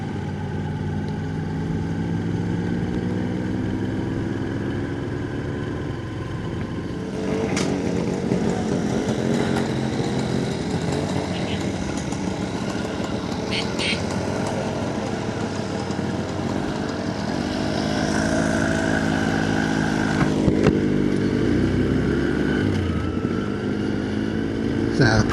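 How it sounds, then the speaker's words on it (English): Small buzzing moped engines, a group riding country lanes on Romney Marsh, run steadily close by, their pitch rising and falling as they ride along, with a faint voice under the drone. "these little mopeds."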